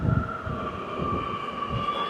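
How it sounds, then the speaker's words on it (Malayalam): A metro train rumbles on a nearby track at a station, giving a steady, fairly loud low drone with a constant high whine above it. There is no talk. "ഇപ്പം അങ്ങോട്ടൊരു മെട്രോ പോയതുള്ളൂ."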